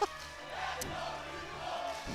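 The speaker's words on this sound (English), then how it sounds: "And the crowd erupting." A tournament crowd at a Super Smash Bros. final day roars and cheers in a sustained, dense wall of voices that holds steady throughout.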